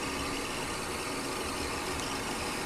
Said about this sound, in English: And that's just the engine is just running, ain't nobody pushing the gas.